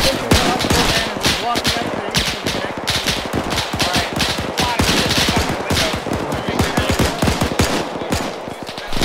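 Sustained machine gun fire in the combat game Arma 3 Iron Front, dense rapid bursts of shots rattling continuously, loud and close, with overlapping reports and echoes.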